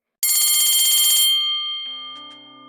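A loud electronic morning school bell rings briefly, then fades into a lingering tone, heard close and alone.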